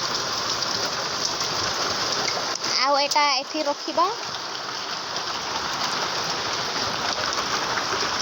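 Heavy rain pours down in a steady, dense hiss from start to end, with a person speaking briefly in the middle over the downpour.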